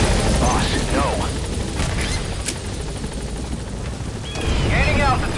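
Pequod's helicopter in the Metal Gear Solid V finale, a steady rotor roar running under talk throughout, with a few sharp impact bursts near the middle.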